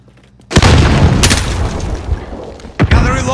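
Frag grenade blasts in Call of Duty: Modern Warfare, a loud deep boom bursting in after a quiet moment and rumbling on, then a second sharp explosion near the end, close and heavy.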